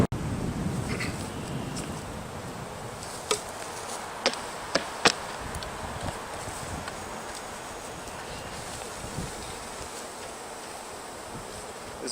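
A package of honeybees poured into a modified hive, heard as a continuous, fairly quiet buzzing hum with a few sharp knocks and taps partway through, and no voices.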